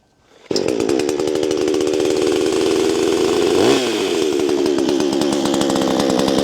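A chainsaw is pulled and fires into life after a brief quiet start, then runs loud and close with a rapid, buzzing two-stroke rattle, briefly dipping in pitch before steadying again, with no voices.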